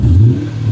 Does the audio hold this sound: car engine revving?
yes